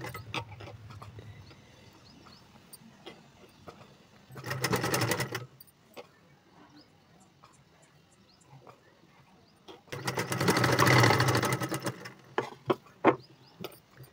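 A sewing machine stitching gathered frills onto a boat neck blouse runs in two loud, rapid, buzzing bursts, one about a second long and another about two seconds, with quiet handling clicks of fabric between them.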